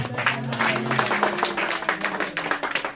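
A church congregation applauds together, dense rhythmic clapping filling the room steadily for a few seconds, with some voices mixed into the crowd.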